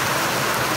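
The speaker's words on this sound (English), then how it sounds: "August at the moment, so a bit more rain than on the last one" Steady, dense hiss of rain falling around a Tasmanian micro hydro setup in August, an unbroken wash of close, even patter with no pauses or voices.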